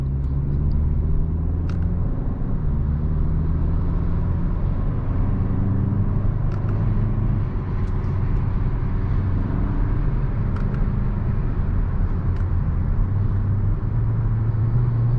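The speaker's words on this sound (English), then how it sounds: "We're gonna try out the paddle shifters here." A 2021 Hyundai Sonata Limited drives steadily, with a continuous low engine and road rumble inside the cabin. The engine pitch steps up and down slightly as it shifts through gears with the paddle shifters, and there are a few faint clicks.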